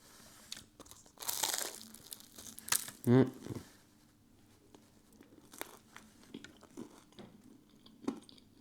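Crunchy, slightly burnt home-cooked food is bitten and chewed close up, a few loud crisp crunches clustered near the start followed by softer intermittent chewing in a quiet room.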